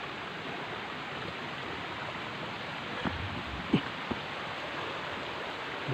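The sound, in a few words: mountain stream flowing water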